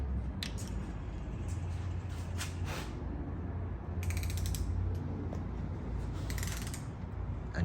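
Ratchet wrench tightening rocker arm bolts on a 5.3L LS V8 engine, giving a run of fast, fairly soft metallic clicks in short bursts over a steady low hum, with no speech.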